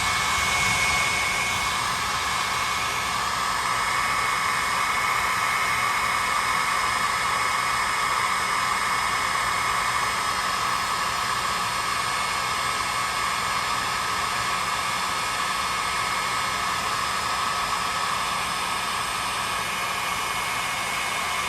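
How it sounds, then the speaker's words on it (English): A hair dryer blows steadily and loudly throughout, a constant close whooshing roar with a high whine, used in a painting session on a birch trees in snow picture. "and we can even maybe take the dryer."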